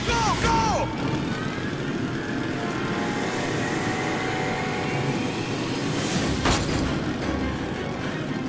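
A train rumbles along in the video game Metro: Last Light Redux, a steady loud mechanical roar with rising tones and a few sharp clanks over its eight seconds.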